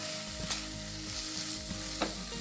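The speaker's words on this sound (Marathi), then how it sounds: "आता हे छान असं आपण परतवून घेऊया" Steamed flatbread pieces sautéed in a hot pan for a homemade desi Maggi dish, with a steady close sizzle and frying crackle and a few soft stirring scrapes throughout.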